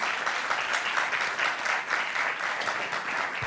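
Conference audience clapping, a brisk, even burst of applause from many hands that holds steady for a few seconds.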